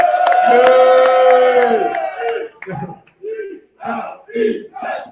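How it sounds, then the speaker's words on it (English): A crowd in Miller's Ale House, a Springfield, PA sports bar, gathers for an Eagles football show. One drawn-out shout gives way to several short bursts of cheering and whooping, loud and close. "Let's hear it for the crowd."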